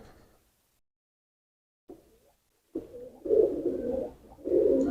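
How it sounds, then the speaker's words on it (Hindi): A Chine pigeon crossed with Ferozpuri stock coos in short low bursts, first a brief call after near silence, then louder rolling coos close by toward the end. "ये चीने कबूतर है मेरे"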